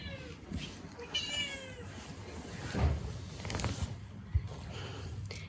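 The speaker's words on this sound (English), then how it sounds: "Every morning, I come and say hi to my favorite kitty, Ruffles." A cat meows a few times outdoors in the morning, a series of short, rising cries close by, with some soft rustling and shuffling between them.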